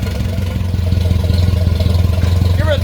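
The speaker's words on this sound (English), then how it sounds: "Something really cool about the sound of an old tractor idling." An old Farmall Super M tractor engine idles with a steady low, throbbing chug, loud and close, its rhythmic pulse running without pause.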